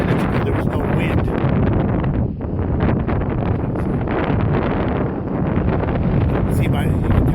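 Strong gusting wind roars across open Colorado Plains, buffeting the microphone with loud, continuous rumble and rushing noise that dips briefly before surging again.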